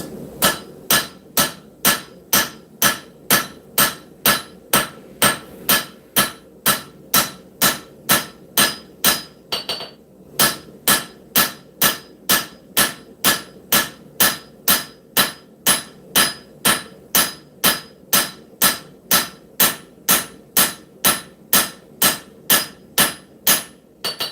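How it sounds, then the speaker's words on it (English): Steady, evenly spaced flat hammer blows ring on metal being forged, loud and close, repeating rhythmically with a brief pause midway before resuming. "Flat hammer blows."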